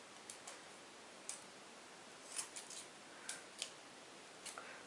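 Scissors snip small pieces from an old light, supple fabric, giving a few faint, separate crisp clicks spaced irregularly over quiet room tone, with no talking.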